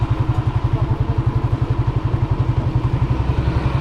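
A motor trike's engine runs steadily close by, a loud low pulsing chug with a rapid even beat that holds throughout, with no talk over it.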